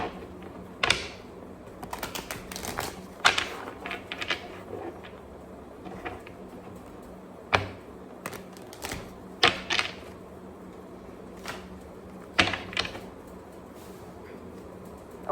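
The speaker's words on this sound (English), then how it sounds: "I feel like shuffling more." Tarot cards being shuffled in repeated short crisp riffling bursts, spaced irregularly over a low steady background hum, close and moderately loud, with no talking.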